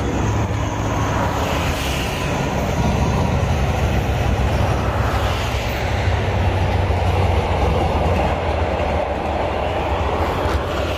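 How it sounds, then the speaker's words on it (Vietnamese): A train runs along the railway beneath an overpass, a loud, continuous roar and rumble of wheels and cars that stays steady and close throughout, with no pauses. "Ủa, hình như tàu sắt đang chạy dưới gần rồi."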